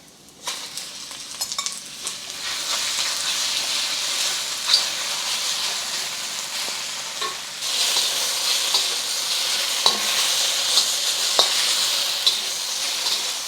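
Shrimp frying and being stirred in a hot pan, a steady loud sizzle with bright hissing crackle, intermittent scraping clicks from stirring, and the sizzle swelling stronger midway through, with no speech.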